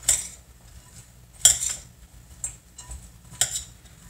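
A utensil mixes low-fat crab pasta salad in a bowl, giving sparse, crisp clinks and scrapes: a few distinct taps spaced about a second apart over a quiet background.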